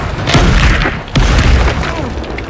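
Incendio fire spell cast in the Hogwarts Legacy video game: two heavy, booming bursts with crackling, whooshing flame noise between and after them, loud and close.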